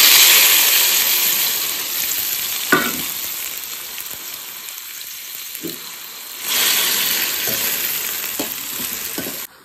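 Gobi manchurian frying in a pan, a steady loud sizzle close up with a few stirring scrapes and knocks throughout, no talk.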